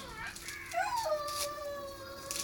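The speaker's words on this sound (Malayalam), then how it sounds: "ലൂസി പെണ്ണ് കുളിയും കഴിഞ്ഞിട്ട് കരയാണ്." A wet dog cries after a bath with a drawn-out, rising and falling high-pitched whimpering howl, close and fairly clear over quiet background noise.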